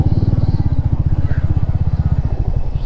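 A motorcycle ridden at an easy pace along a road through wooded countryside, its engine throbbing in a fast, steady pulse, loud and close throughout with no talking.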